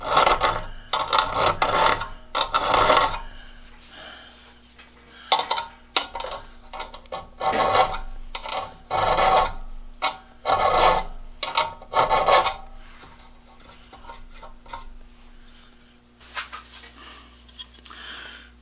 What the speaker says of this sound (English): use the auger bit file and file the spurs